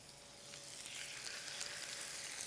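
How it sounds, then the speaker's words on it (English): Meat sizzles steadily in a hot pan over medium heat, a soft, even crackling hiss that is fairly quiet and close, with no talking. "You should be able to hear the sizzle."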